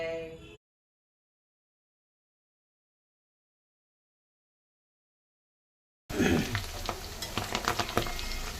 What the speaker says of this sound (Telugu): బంగాళదుంపలు, చిన్న బేబీ దుంపలు ఉంటాయి కదా, అవి వేయిస్తున్నాను